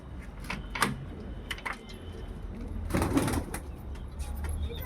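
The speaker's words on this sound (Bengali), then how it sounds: "তো এখন কটা পায়রা দেখাবো, এই খোপের বাচ্চা, ধাড়িও আছে বাচ্চাও আছে" Pigeons, both adults and young birds, in a rooftop coop give soft, low coos and calls amid scattered wing flutters and wooden knocks, fairly close and intermittent, with no talking.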